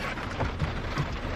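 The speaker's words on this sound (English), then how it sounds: "It's actually raining." Steady rain falls outdoors, a continuous broadband patter that stays fairly even and close throughout the short moment, with no voices over it.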